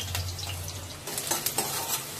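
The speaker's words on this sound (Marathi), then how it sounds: "आपलं तेल गरम झालंय, मी आता कांदा टाकून घेते. कढीपत्ता टाकून घेतो." Chopped onion and curry leaves hit hot oil in a pan for a masala soybean gravy, giving a soft sizzle, followed by a few sharp clinks and scrapes of stirring.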